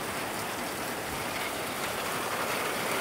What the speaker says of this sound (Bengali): বৃষ্টি আসছে, এখন একটু বাতাস শুরু হয়ে গেছে